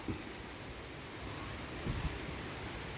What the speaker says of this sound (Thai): วันนี้ในวันฝนตกครับวันนี้ฝนตกพายุเข้าอีกแล้ว